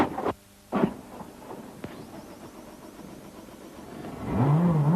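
A Peugeot 206 rally car at the 2003 Rally of Catalonia rejoins the road after going off. A few sharp knocks are followed by the engine revving up, rising loud and close near the end.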